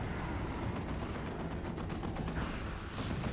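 Shotgun fire amid a dense battle in the video game Dawn of War II Retribution, as scouts fight a Tyranid brood, with steady overlapping shots and impacts and no talking.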